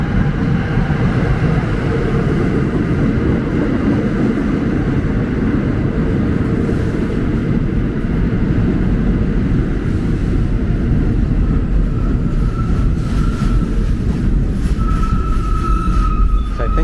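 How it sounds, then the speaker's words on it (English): A New York City subway Q train arrives at a station platform, a loud continuous rumble and roar of wheels that holds for the whole span, with thin screeching tones rising near the end as it pulls in. "Again, another uptown train, this time a Q."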